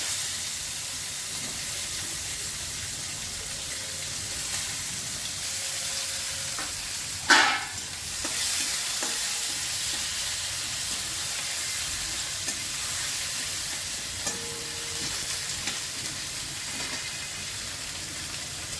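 Chopped onions going into hot oil with two bay leaves and whole garam masala, a continuous soft sizzle throughout with one sharp clatter midway and a few faint utensil taps, no voices.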